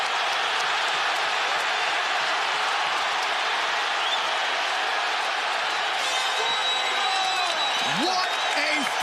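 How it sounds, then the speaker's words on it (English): A fight crowd at Barclays Center stands and cheers in a loud, continuous roar of applause and shouts after the bout, with a voice talking over it. "They are standing and cheering at Barclays Center."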